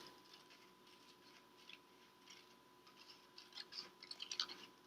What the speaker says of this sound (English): I'm not moving my scissors around, they're just going open, shut, open, shut.